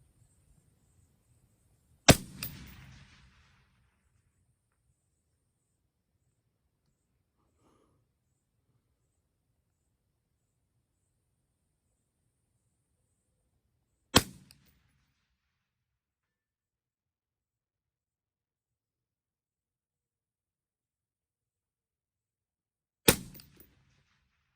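Three sharp, isolated rifle shots from an HK 416 DMR fired at steel targets about 500 away, each a sudden crack with a brief decaying tail, spaced roughly ten seconds apart over near silence.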